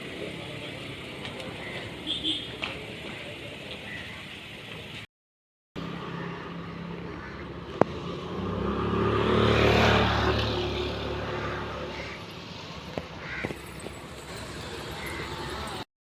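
Vehicles pass on a road near the Taljai temple garden, one swelling up and fading away over several seconds above a hilly, open-air background, with occasional faint knocks.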